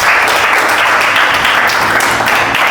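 A crowd applauds after a timed spring-and-ring puzzle game, with loud, continuous, tightly packed clapping that stays at full strength from start to finish.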